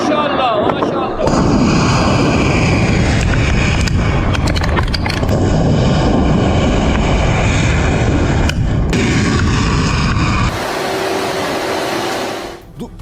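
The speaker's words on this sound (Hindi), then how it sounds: "देखिए मिसाइल जाकर गिरी है बहरीन में।" Iranian missile strike hitting Bahrain: a loud, sustained roar of blast and rumble runs nearly the whole time, with crackling bursts layered on top before it drops away near the end.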